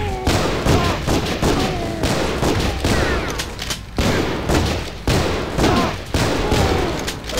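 Rapid machine gun fire in the prison game Hard Time, bursts of dense shots repeating in waves with brief gaps, loud and close throughout with no talk over it.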